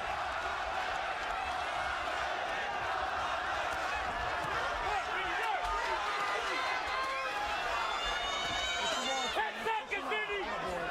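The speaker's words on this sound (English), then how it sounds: "Just listen to this crowd." Large boxing arena crowd at the 2010 Tomasz Adamek vs Vinny Maddalone fight, a dense, steady roar of voices, whoops and chatter filling the space without pause, with a few louder cheers rising near the end.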